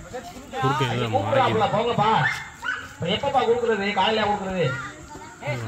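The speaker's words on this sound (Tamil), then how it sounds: "நாய்க்குட்டி வேற கத்திக்கிட்டே" A puppy yelps and barks repeatedly at an outdoor Pongal village games event, its cries rising and falling in short bursts close by, with people talking over it throughout.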